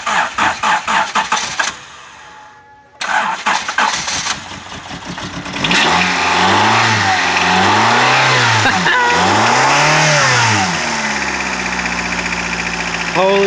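A 1993 Honda Civic engine cranks, catches and starts after sitting two years, then revs up and down in several loud, rising and falling sweeps before settling toward idle, close to the mic.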